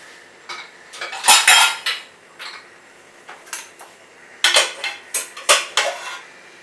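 Metal utensils and pots clatter and clink in bursts as the cooled contents of a pressure cooker are taken out in a kitchen, loud sharp clanks with brief pauses between.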